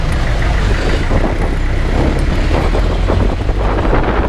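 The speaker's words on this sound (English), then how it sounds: "There's a track hoe." A track hoe excavator rumbles steadily nearby in Bohol, Philippines, a continuous low engine drone with wind buffeting the microphone.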